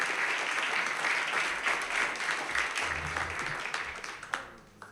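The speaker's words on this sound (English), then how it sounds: "If we could just give a round of applause for our panelists" Symposium audience applauding the panelists after a discussion on renewable generation law, dense steady clapping that thins and fades out, with a few last claps near the end.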